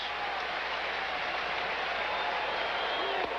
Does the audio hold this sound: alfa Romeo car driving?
no